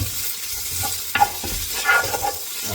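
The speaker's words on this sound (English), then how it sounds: "And that stir around so it coats everything evenly." Cooked chicken pieces tossed with about a teaspoon of spice mix and fried in a pan, a soft continuous sizzle with scraping, clinking stirring strokes close by.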